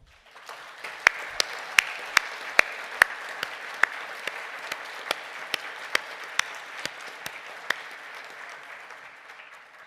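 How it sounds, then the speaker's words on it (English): Graduation ceremony crowd gives a sustained round of applause for public health nutrition graduates, a broad steady clapping wash with a few sharp, close individual claps standing out in a rhythmic pattern. "Will the graduates of the Bachelor of Science Honours in Public Health Nutrition please stand for a round of applause?"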